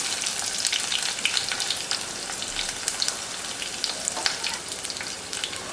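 Curry leaves, garlic and onion fry in hot oil in a pan for a sundakkai kara kuzhambu, a steady crackling sizzle with bursts of sputtering pops, close and alone.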